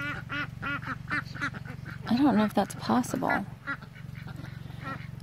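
Ducks on a homestead, including Khaki Campbells and ducklings, quacking in a loud burst of honking calls midway, with someone talking over the start and end of it.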